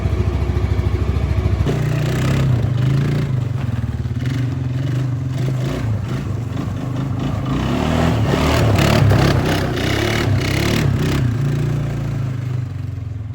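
A 2000 Suzuki Quad Master ATV engine just after carburetor repair runs loud and close, a steady throbbing idle that rises into repeated throttle revs before settling back, with no talking.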